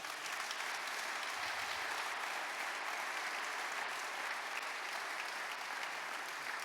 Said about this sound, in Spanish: Démosle un aplauso a la palabra de Dios.